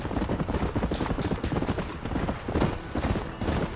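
Horse hooves clip-clop steadily at a trotting rhythm in the Red Dead Redemption video game, fairly soft and close, with faint voices in the background.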